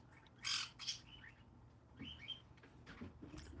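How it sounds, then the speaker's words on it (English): A bird squawks in the background, with a few loud shrill calls and chirps close together early on and softer calls after, over a quiet room hiss. "I have a bird screaming in the background"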